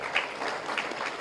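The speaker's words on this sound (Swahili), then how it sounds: "Tuwapigieni makofi." Audience applause for the Taita Taveta hosts at a regional agribusiness and blue economy investment conference in Kenya, a steady patter of clapping from a crowd that holds evenly for about a second.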